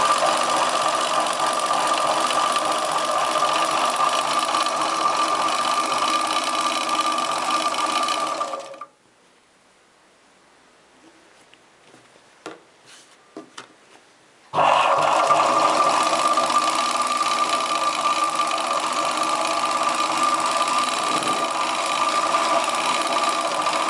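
An electric sewing machine stitches a chudidar top in a steady, loud mechanical whir, stopping for several seconds with a few faint clicks before running again just as steadily.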